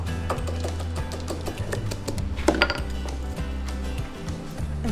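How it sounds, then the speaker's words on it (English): Roasted peanuts crushed with a mortar and pestle: repeated light taps and clinks of the pestle, one sharper knock midway, all under a steady backdrop of music. "So I'm just adding some roasted peanuts and using my mortar and pestle, I'm just going to"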